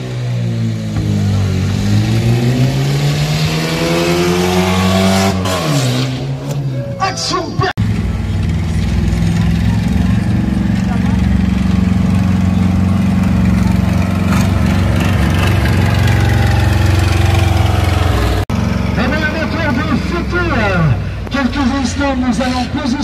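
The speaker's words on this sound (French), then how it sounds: "Un véritable monstre mécanique, Stone Crusher, Monster Truck qui roule sur les roues arrière." The Stone Crusher monster truck rolls on its rear wheels, its engine droning loudly and continuously with pitch swells and revs, close and dominant throughout.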